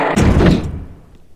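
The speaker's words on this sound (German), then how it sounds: "das ist immer ein Krach mit den Türen" A heavy door slams shut in the Indiana Jones and the Tower of Babel video game, one loud, booming impact that fades out over about a second.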